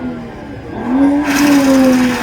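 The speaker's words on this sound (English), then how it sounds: "Sounds like a tire might be going" A car does a rolling burnout at an import and performance car show contest. A rising engine leads into a loud, sustained tire squeal that lasts about a second before fading.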